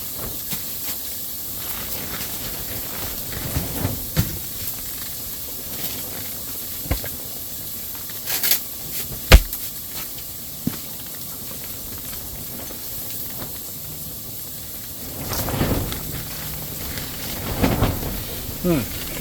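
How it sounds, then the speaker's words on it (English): Onions and venison cook together in a hot pan, producing a steady close hiss with occasional louder crackling spurts, and a person talks now and then over the sizzle. "we're going to add the venison and let them cook together"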